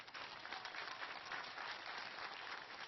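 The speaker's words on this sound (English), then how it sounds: "big round of applause for all our fighters who put on a show for you guys" Arena crowd at a UFC 133 Q&A applauds the fighters, a soft, even, distant roar of clapping sustained throughout.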